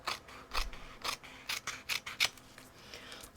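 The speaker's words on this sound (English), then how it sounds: "We're just going to shortcut it and cut right through the cardstock" Scissors cut through cardstock in a series of close, crisp snips and rasping slices, soft and steady with no talk over them.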